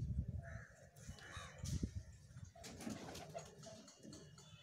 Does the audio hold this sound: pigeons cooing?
yes